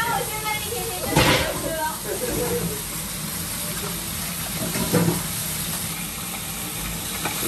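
Fish sizzling in a hot frying pan, a steady hiss of frying oil that swells with louder bursts near the start and again later, heard close up.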